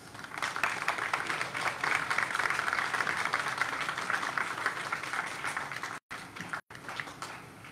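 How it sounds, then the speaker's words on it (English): A school audience at a Guam high school gubernatorial forum applauds the 2018 governor and lieutenant governor candidates: dense, steady clapping from many hands fills the room, with two brief dropouts near the end. "give all of the gubernatorial candidates a round of applause"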